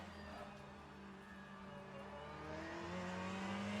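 A race car engine at full throttle in Le Mans Ultimate at Sebring, a steady droning whine that rises slowly in pitch, fairly quiet and continuous with no talk.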